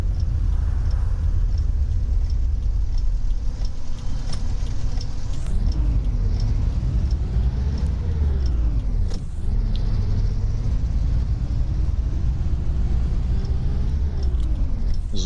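A BAZ-22154 bus driven in the OMSI 2 simulator gives a steady, loud engine rumble with rising and falling revving sweeps as it accelerates and shifts, running continuously with no talk.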